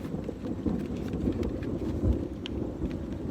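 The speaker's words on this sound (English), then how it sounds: "Hear that? That's the thunder." Low, rumbling thunder rolls beneath rain and wind in a cornfield. The sound is a continuous dull roar with slight swells and wind buffeting on the microphone, and no one speaks.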